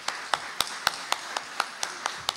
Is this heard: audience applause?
yes